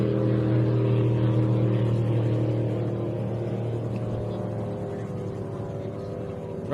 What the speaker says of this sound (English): Eliminator jet boat